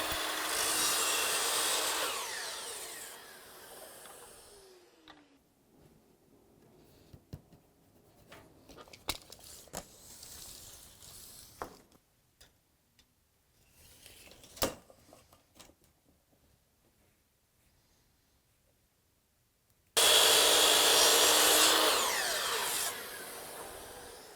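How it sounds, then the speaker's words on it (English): A chop saw cuts wooden bed rails to length, a loud near whir at the start and again at the end, with quiet shop knocks, taps and shuffling between the cuts. "So I'll take these over to the chop saw, I'll get them cut to length"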